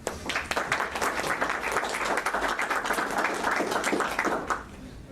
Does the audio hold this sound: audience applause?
yes